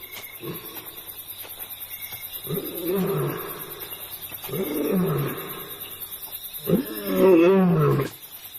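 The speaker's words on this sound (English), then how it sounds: "the lioness is calling for her pride" A lioness calls for her pride out in the wild with three deep, drawn-out roars spaced a couple of seconds apart, the last one loudest, over a faint steady hum of insects.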